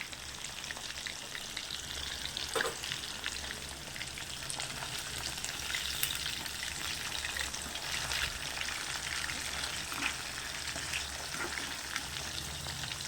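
Marinated jalebi fish frying in oil on a low simmer, a steady dense crackling sizzle with scattered sharper pops, close and continuous with no talking.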